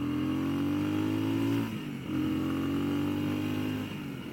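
A Genuine G400C motorcycle with dual stainless steel exhaust pipes revs up twice, each swell rising and then dropping away, a close, throaty exhaust note with no talking.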